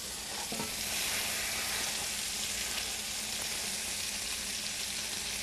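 Cheeseburger patties sizzle steadily in a hot pan, a dense, continuous frying hiss that stays loud and even throughout, with a faint clink near the start and no voices.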